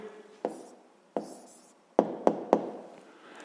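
Pen on paper during a sixth-grade math exercise, heard as a few short scratchy strokes and firmer taps spaced across the moment, close and fairly quiet with no talking.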